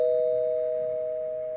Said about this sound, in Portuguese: a campainha tocou de novo